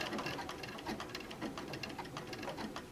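A sewing machine stitching around the edge of an applique on a dinosaur quilt top, running as a steady, fast mechanical patter at moderate distance, with no voices.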